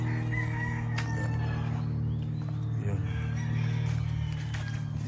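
A gamecock rooster crows at a breeding farm, set against a steady, loud low hum and busy background noise.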